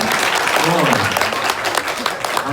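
A church congregation claps in a sustained, dense round of applause, with a voice speaking over the clapping.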